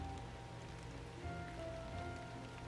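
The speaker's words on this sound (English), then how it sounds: "When we look up, it begins to rain, huh?" Rain in the video game Root Letter, a soft, even patter that hisses at a low level throughout with no gaps and no talking.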